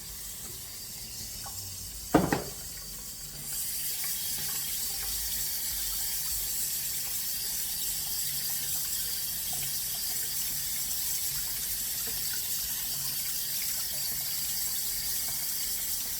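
Brown rice being rinsed under a running kitchen tap: a brief clunk, then a steady, close hiss of flowing water that fills the rest of the span without talk.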